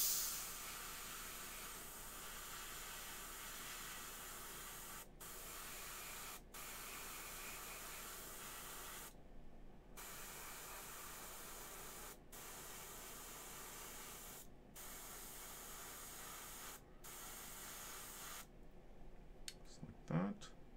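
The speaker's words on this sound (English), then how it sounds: "Spray just a little bit down the feet here." An airbrush spraying paint onto the feet of a McFarlane Hellblaster Primaris marine miniature, a faint, steady hiss held for long stretches and broken by several brief pauses, with no talking.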